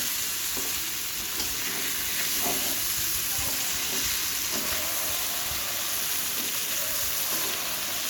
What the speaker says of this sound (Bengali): এইভাবে যদি বেগুনটা আমরা ভেজে নিই